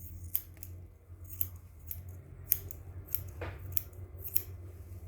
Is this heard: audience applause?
no